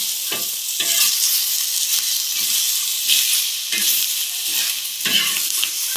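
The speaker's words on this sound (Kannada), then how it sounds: "ಈಗ ನಾನು ಟೊಮೊಟೊ ಇದರಲ್ಲೇ ಟೊಮೊಟೊ ಹಾಕಿ ಹುರಿದುಕೊಳ್ತೇನೆ" Tomatoes fry with steady sizzling in a pan for an aubergine (brinjal) curry. A spoon scrapes and stirs in repeated close strokes over the crackle, with no voices.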